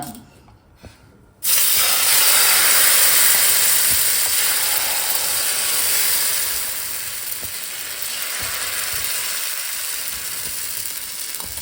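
Tomato omelette batter is ladled into a hot, oiled pan and bursts into a loud, steady sizzle that eases slightly and carries on evenly with no talk.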